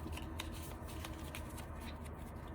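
Playing cards being shuffled by hand, a soft continuous riffling and flicking at close range against a steady low background hum, with no talking.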